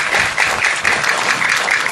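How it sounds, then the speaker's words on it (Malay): An audience at a forum clap together in a steady, dense round of applause for the men present, fairly close and continuous with little talk. "Kita bagi tepukan gemuruh kepada para lelaki, para ayah, para suami yang hadir."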